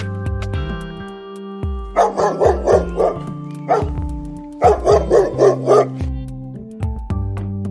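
A dog barks in two quick bursts of repeated, loud close barks, with a lone yip between them, all over a steady musical backing.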